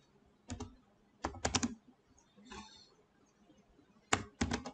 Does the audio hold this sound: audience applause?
no